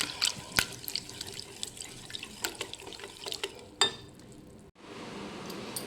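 Water poured into banana fritter batter for a tea-shop snack, a trickling pour with drips and light clinks of a bowl, close and alone, stopping before a short quiet stretch.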